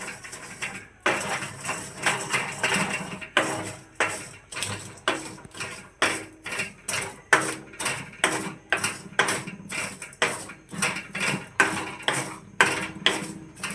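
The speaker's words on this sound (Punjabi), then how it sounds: "ਤੇ ਹੁਣ ਆਪਾਂ ਉੱਤੋਂ ਇਹਨੂੰ ਰਗੜ ਦਾਂਗੇ ਜਿਵੇਂ ਆਪਾਂ ਪਹਿਲਾਂ ਦੂਸਰੇ ਛੋਲੇ ਰਗੜੇ" Black chickpeas are dry-roasted without sand in a kadai and rubbed with a utensil, making loud, rhythmic scraping and rattling strokes that repeat roughly twice a second throughout.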